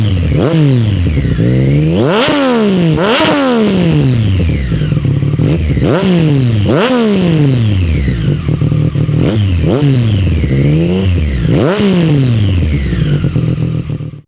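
A Triumph Street Triple RS 765 motorcycle's engine revs hard, close and loud, rising and falling in a long series of repeated sweeps with a clattery mechanical edge.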